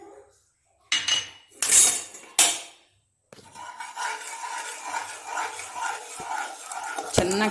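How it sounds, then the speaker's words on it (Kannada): A spoon scraping and clinking against a pan while gram flour is stirred into melted sugar for Mysore pak with oil and ghee; sharp metallic bursts separated by pauses, then continuous softer scraping and rattling, close up. "ಚೆನ್ನಾಗಿ ತಿರುಗಿಸ್ಕೊಳ್ಳಿ ಹಿಟ್ಟನ್ನು."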